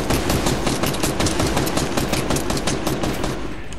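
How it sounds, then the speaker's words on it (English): Rapid automatic gunfire in the video game Fortnite, aimed at a tree: a loud, continuous stream of close, evenly spaced shots that keeps going for the whole stretch. "Shoot the tree down, it's gonna die!"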